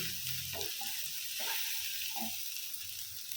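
Eggs frying in a pan for Guddu Poratu, a soft continuous sizzle with faint scraping and stirring touches, quiet and close.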